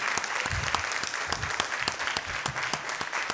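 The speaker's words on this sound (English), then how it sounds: "You ought to just clap for him and just praise him." A church congregation at a Sunday service claps in praise, a sustained wash of many hands with sharp individual claps standing out, close and fairly loud.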